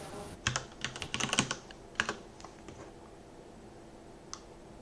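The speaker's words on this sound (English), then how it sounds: "I'm typing." Fingers typing on a computer keyboard during an online working session, a close run of irregular clicking keystrokes in quick bursts, then a few scattered taps and a final single key press, with no talk.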